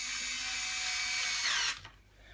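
A power screwdriver drives screws while a Stokke Xplory rear wheel is reassembled, with a steady high whine lasting over a second and a half before it stops abruptly.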